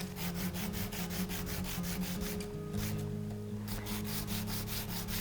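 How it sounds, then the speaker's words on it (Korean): Sandpaper is rubbed back and forth on a small resin jewellery piece to roughen its surface, a quick steady rhythm of close, dry scratching strokes with a brief pause midway. "사포를 이용해서 이 부분 면적을 조금 거칠게 만들어주도록 하겠습니다."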